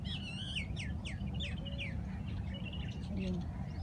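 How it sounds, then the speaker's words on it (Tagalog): Small birds chirp in a series of quick, high tweets early on, fading to sparser calls, outdoors amid greenery over a steady low background rumble; a person talks faintly in the background. "Two little birds."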